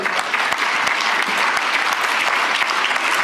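Audience applause fills a hall, dense and loud, with many hands clapping steadily and evenly throughout, no voices standing out above it.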